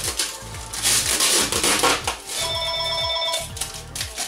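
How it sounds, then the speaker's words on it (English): A mobile phone rings indoors beside a gaming computer setup, with repeated electronic ring tones sounding loud and close over a busy, cluttered background. "And there goes my phone."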